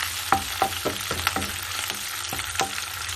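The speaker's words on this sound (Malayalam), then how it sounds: "അതിലേക്ക് പച്ചമുളക്, വെളുത്തുള്ളി, ഇഞ്ചി, കറിവേപ്പില ഇതോരോന്നായി ചേർത്ത് കൊടുത്ത് നന്നായി വഴറ്റിയെടുക്കുക" Green chili, garlic, ginger and curry leaves sauté in hot oil for a beetroot pickle, a steady sizzle broken by several sharp stirring scrapes and clinks of a spoon against the pan, close and fairly loud with no talk.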